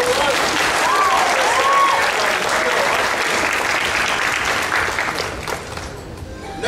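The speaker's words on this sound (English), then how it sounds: "Yeah, one more round of applause." Sustained applause from a convention audience at an anime costume contest, loud and steady clapping for several seconds before thinning out toward the end; a voice briefly speaks over it.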